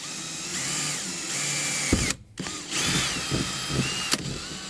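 A power drill runs steadily into the first layer of an aluminum tube during a van flooring install, with a brief stop and restart midway and small clicks and bumps near the end.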